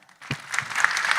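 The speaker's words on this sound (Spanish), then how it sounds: "por favor un aplauso para ellos." An audience at a school-feeding and social-protection conference session in Honduras breaks into applause, rising quickly into steady clapping that fills the room for about a second.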